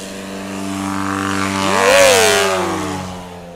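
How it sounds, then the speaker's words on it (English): Backwoods STOL light aircraft taking off at a STOL competition on an airpark: a loud propeller engine drone that swells to a peak with a rising then falling pitch as it passes close by, with no talking. "these aircraft that you see here are just classic backwoods flyers"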